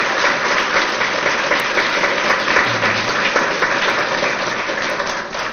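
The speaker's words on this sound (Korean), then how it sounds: "특히 우리 사모님 위해서 박수 좀 보내드릴까요?" Guests at a retirement ceremony for a Korean National Assembly official applaud his wife in a loud, sustained, even wash of clapping from a large room.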